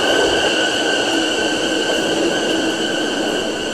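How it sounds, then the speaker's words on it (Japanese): An out-of-service train pulling into platform 2 at a station, a steady loud rumble of wheels on rails overlaid with sustained high metallic whining tones, continuous with no talk. "ただいま2号線に到着の電車は回送車です。"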